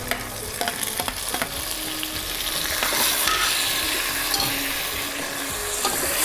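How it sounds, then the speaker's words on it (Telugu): Chopped tomatoes fry and sizzle in a pan for sambar while a spoon stirs them, scraping and clinking against the metal in irregular strokes over a constant close hiss. "టమాటాలు వేస్తుండా."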